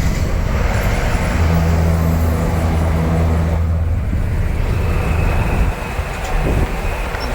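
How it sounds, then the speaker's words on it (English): Steady, loud rumble of a passing freight train, with a continuous low droning hum and rolling roar close by, no talking. "This is the last train that we're going to be passing here soon."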